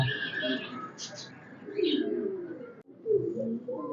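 Fancy high-flying pigeons coo close by, with a few higher chirps and a murmur of voices and bustle in the background at a pigeon sale.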